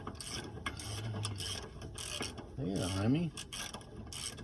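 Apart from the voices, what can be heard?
cordless impact driver removing lug nuts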